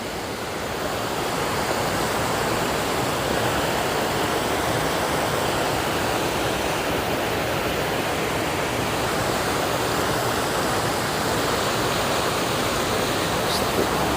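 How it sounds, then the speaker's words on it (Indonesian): A river flowing right beside the listener, a steady loud rushing roar of water that stays constant throughout, with no other sounds standing out. "Dan ada di sebelah saya itu sungai."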